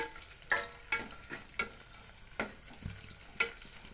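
Green chillies with whole biryani spices (cloves, cinnamon, spice flower) frying in a pan for a goat-intestine fry, a steady soft sizzle broken by sharp scraping stirs at irregular intervals, close and with no voices.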